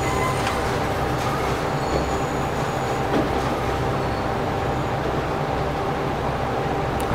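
Steady rolling roar of a high-speed train in the video game Transport Fever, with faint wheel squeal on curves and light track clatter; constant and fairly loud, no voices.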